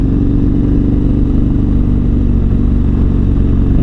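A KTM 1290 Super Adventure R motorcycle engine running loud and close, a steady deep rumble with no revving swells.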